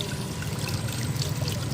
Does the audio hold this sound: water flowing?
yes